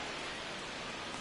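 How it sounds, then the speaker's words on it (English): Steady rain falling in MLB The Show 26, a dense, even hiss of downpour that fills the moment without a break, faint and uniform with no voices or other sounds standing out. "This rain is not letting up."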